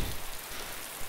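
Steady rain in DayZ, a dense continuous hiss of falling drops with no talk, lasting about a second.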